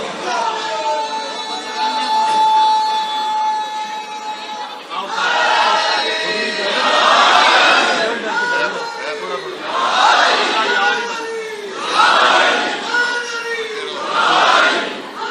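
Crowd at a religious gathering celebrating the birth of Imam Hussain, chanting slogans in loud, swelling call-and-response waves, with a leading voice before the crowd answers in repeated bursts.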